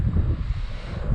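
Gusty wind blowing across a lakeside fishing spot, a low rumbling buffet of air against the microphone that holds steady throughout the brief moment.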